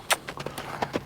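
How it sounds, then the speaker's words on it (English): A horse's hooves strike the ground in a quick three-beat rhythm, crisp and close, repeating through the short moment. "Now he's heard the word lope. Now he's loping."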